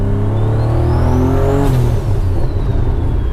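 A turbocharged race car engine revs hard at a roll racing event in Brisbane, a loud, close, rising whine and roar sustained throughout with no talk.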